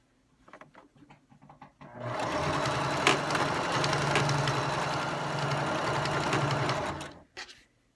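A sewing machine stitching catnip pillows runs in one loud steady burst of about five seconds, bracketed by short clicks and handling noises before and after.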